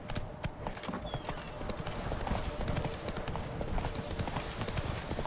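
The horse Roach gallops in The Witcher 3, with rapid, rhythmic hoofbeats thudding steadily and fairly close over a busy background.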